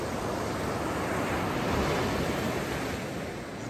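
Sea waves breaking on the coast at Trindade, Rio de Janeiro, a steady loud wash of surf with no break across the whole stretch, mixed with some wind.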